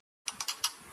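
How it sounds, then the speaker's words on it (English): Four quick mechanical clicks in an uneven rhythm, close and crisp, like keys being struck on a keyboard, with a faint hum continuing after. "For example, here's a typing sound."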